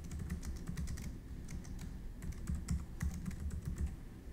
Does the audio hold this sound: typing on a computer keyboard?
yes